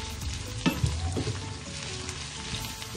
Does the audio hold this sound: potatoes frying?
yes